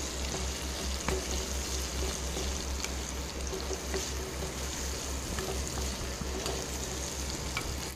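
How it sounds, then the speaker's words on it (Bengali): Potato cubes with a little turmeric and salt frying in mustard oil in a wok, a steady close hiss and sizzle running unbroken throughout, with no talking. "আমি কড়াইয়ের মধ্যে সর্ষের তেল দিয়ে আলুগুলোকে একটুখানি হলুদ আর নুন দিয়ে ভালো করে একটু ভাজা ভাজা করে নিচ্ছি"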